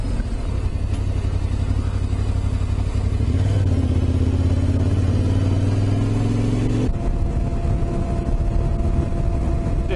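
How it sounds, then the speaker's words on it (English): A Yamaha T700 motorcycle riding two-up at speed on a tar road, its noisy tyres and engine making a loud, continuous hum and drone that shifts pitch partway through, with wind buffeting throughout. "those bloody whatever tyres he's got on, they're pretty noisy when you get up to speed on the tar"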